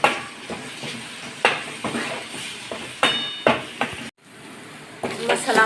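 A ground spice paste for a dry drumstick vegetable dish sautés in a pan, with rhythmic metal spatula scrapes and knocks over a soft sizzle, close and fairly loud, with a brief silent gap near the end.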